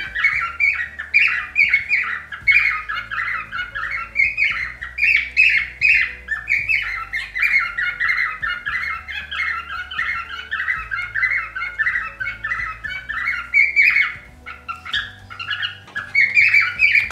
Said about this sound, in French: mon oiseau a décidé de chanter